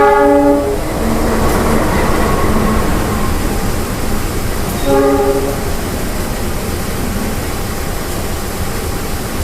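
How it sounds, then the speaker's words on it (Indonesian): The Harina passenger train rolls into Cepu station, with a steady rumble of wheels and carriages throughout, a long loud horn blast at the start and a second shorter blast midway. "ini ada kereta yang segera masuk di stasiun Cepu teman-teman"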